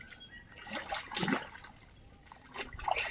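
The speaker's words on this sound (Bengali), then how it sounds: "দাঁড়িয়ে পা ধুয়ে নিচ্ছি" Feet being washed by hand with rising rainy-season water in a Sundarban village, faint splashes and trickles in a few short bursts, quiet outdoor background.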